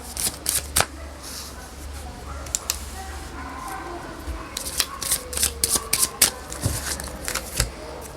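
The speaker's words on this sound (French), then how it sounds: "Si vous tirez les cartes et que vous attendez que certaines cartes sautent" Tarot cards shuffled by hand during a reading, with quick papery riffles and taps that come in flurries, close and fairly loud, while someone talks in French over them.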